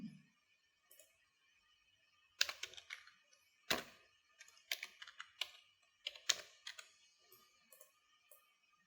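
Bursts of computer keyboard typing while building a cash memo spreadsheet in Excel, with quick clusters of crisp key clicks separated by short pauses, close and quiet with no talking.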